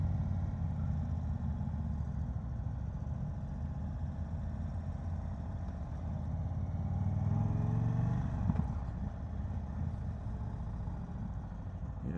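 A 2022 Indian Chief motorcycle's engine rumbles steadily while riding, with a low, continuous drone that swells louder for a moment partway through before settling back; no one speaks.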